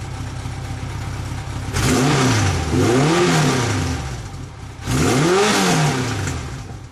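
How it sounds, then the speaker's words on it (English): Two strong motorcycle engine revs over a low idle, each rising in pitch and falling back, close and loud, with a pause between them. "I'm going to do a couple engine revs here."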